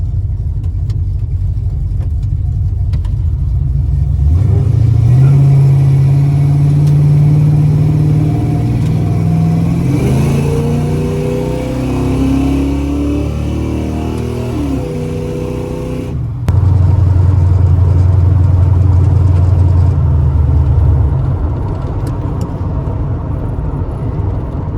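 A 1978 El Camino with a 357 small-block V8, TH400 transmission, knockoff Flowmaster mufflers and an exhaust leak rumbles close by, a deep idle rising into a steady revving drive, then dropping back to a loud idle.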